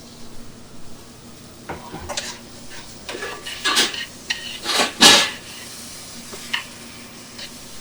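Freshly mulched tomatoes sizzling and spitting in a hot pan, with sharp crackling pops and bursts of spatter around the middle, plus metal utensil scraping and stirring against the pan.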